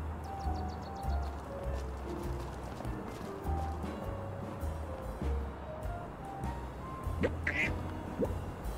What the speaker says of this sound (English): I think that's an African goose.